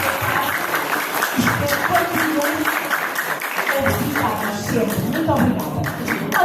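Applause from an audience at a Portuguese journalism event, sustained clapping from a crowd with talking over parts of it.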